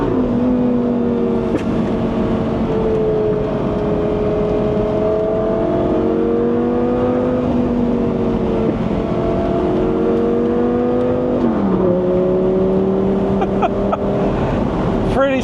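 Lamborghini Gallardo Spider engine with exhaust valves open, loud sustained revving under acceleration with rising pitch through gear changes and a drop at a shift, heard from inside the car, with a voice talking over it.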